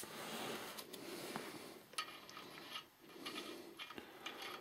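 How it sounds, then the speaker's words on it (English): A ratchet clicks steadily while crankshaft main bearing cap bolts are torqued down during an engine line-bore fitting, a quiet, close run of rapid pawl clicks with no talk. "we're just going to torque the bolts down."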